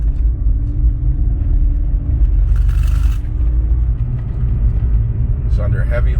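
A 2004 BMW 325xi accelerating hard under heavy load with a launch shudder, heard from inside the cabin as a loud, steady low engine and road rumble, with brief rattles over it.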